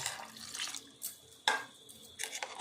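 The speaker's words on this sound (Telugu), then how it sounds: "ఇప్పుడు మనం దీని నిండా వాటర్ పోసుకోవచ్చు" Water splashes and trickles in a series of short bursts, with occasional clinks, close by and fairly quiet, no talking, as water is poured in while making carrot and beetroot juice.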